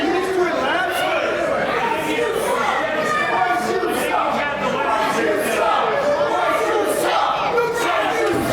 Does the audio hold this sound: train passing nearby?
no